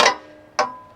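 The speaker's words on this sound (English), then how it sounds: "hear it breaking the paint loose" A wrench breaking a painted nut loose on a Midland bullbar antenna mount, producing two short, sharp cracking clicks about half a second apart, close and distinct with no talking.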